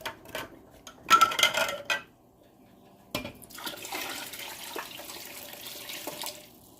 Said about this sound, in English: let's take a jar out of the hot water.